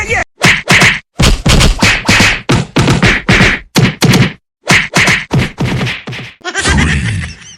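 A man takes a rapid beating in a comedy skit: loud, close whacks and thwacks land in quick irregular bursts, with brief pauses between them, then end in a harsher crashing smash.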